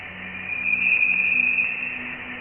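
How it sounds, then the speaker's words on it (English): Voyager 1 plasma oscillations from interstellar ionized gas, rendered as sound: a steady high whine that swells and fades, over a low pulsing drone. "The sound you're hearing is the audible translation of plasma oscillations,"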